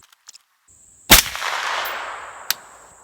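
A single sharp gunshot from a subsonic Atomic round cracks close by, followed by a lingering echo and a faint metallic click a moment later.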